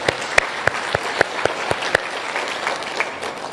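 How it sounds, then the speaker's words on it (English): Applause from a crowd at a Kenyan political gathering, a moderate wash of clapping punctuated by several sharp, louder individual claps near the microphone. "I suggest we give him a big, big clap."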